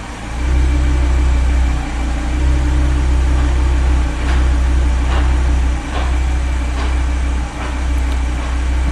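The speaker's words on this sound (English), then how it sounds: "You can hear it just adapting the clutches." Audi RS3 idling while a new, faulty mechatronics unit adapts the gearbox clutches after a gearbox oil fill: a loud, steady engine drone broken by soft clunks and brief dips roughly every second or two.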